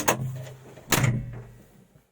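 The cab door of an ArmaTrac tractor is slammed twice, each time with a close, heavy thud, and the second slam is followed by a short rattling decay.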